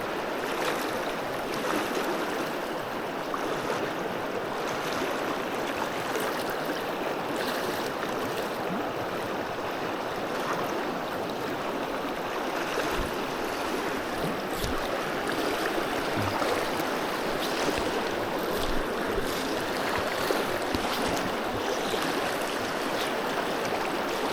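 Fast-flowing river water rushes steadily through a New Zealand fishing spot, a loud, continuous broadband roar with no voices.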